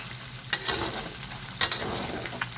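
Pork fat fries into cracklings in hot oil, giving a steady close sizzle with bubbling and a couple of sharper pops. No voices can be heard.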